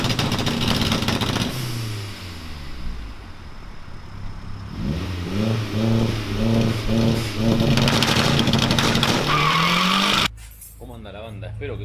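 A turbocharged 1.6 VW Gol with its original engine revs hard and loud close by. Repeated rising and falling revs swell to a peak, then cut off abruptly.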